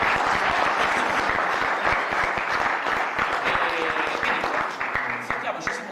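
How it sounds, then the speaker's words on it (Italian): Audience applause at an astronomy meeting in a lecture hall, a dense, steady wash of many hands clapping that carries on throughout and thins slightly near the end. "vorrei fare un grande applauso a Simona e Anna Maria che hanno gestito tutt"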